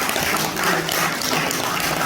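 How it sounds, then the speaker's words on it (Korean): An audience at a Gwangju appointment ceremony in a hotel hall bursts into steady, dense applause of encouragement, many hands clapping at once, loud and continuous with no talk over it. "서로 격려의 박수 부탁드리겠습니다"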